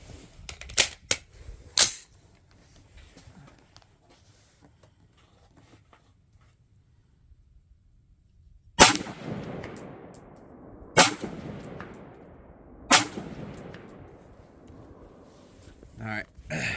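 Rifle shots crack out at a mild steel target riddled with holes, a few sharp reports spread apart with long gaps, loud and close, with someone talking between them.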